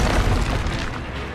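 The Confringo explosive spell in the video game Hogwarts Legacy lands as a single loud, deep boom that swells and rumbles briefly before fading, with no voices.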